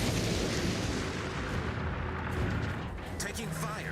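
Heavy gunfire pounds a warship in a World of Warships naval battle, a dense, continuous roar of booming shots and impacts with no pauses, loud throughout.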